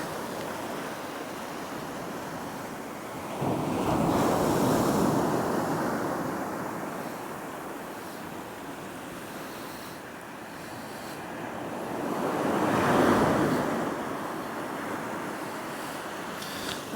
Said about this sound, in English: Let's have a little look at the sea